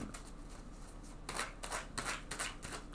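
Tarot cards being drawn and handled from a deck, several soft papery swishes and slides in quick succession, close and quiet with no talk.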